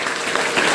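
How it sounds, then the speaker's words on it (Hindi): Loud, dense audience applause at a motivational business meeting, a steady wash of many hands clapping close by with no speech over it. "DXN के लिए जोरदार ताली लगानी"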